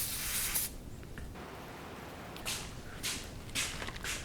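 A spray bottle of cleaner spritzes onto a rag in a few short, sharp hissing bursts, close by, with quiet pauses between them.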